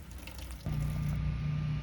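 Water pours steadily from a tap into a tub, a quiet trickle suddenly turning into a louder, constant gushing rush of filling water that continues unbroken.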